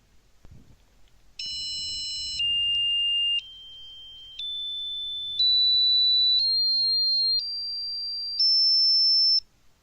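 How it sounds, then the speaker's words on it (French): A small Arduino-driven piezo buzzer plays a rising scale of electronic notes, eight steady beeping tones of about a second each stepping upward in pitch, clear and close in an otherwise quiet room after a brief handling noise. "Voilà toute la gamme de notes que peut jouer notre petit buzzer."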